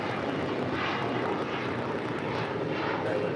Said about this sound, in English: Delta Airlines flight 413 in the 737-900ER